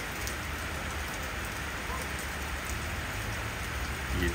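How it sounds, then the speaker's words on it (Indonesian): Steady rain falling outdoors at a fishing pond, a dense, even hiss of drops on surfaces that holds constant throughout. "Oh, hujan-hujan, guys."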